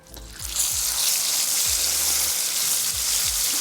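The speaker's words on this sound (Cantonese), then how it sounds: "After just 30 to 40 seconds of frying, we'll remove the first batch." Chinese salt-and-pepper sole fillets deep-frying in a wok: a loud, continuous hissing sizzle swells in after a brief quiet start, with a few soft low thumps underneath and no voices.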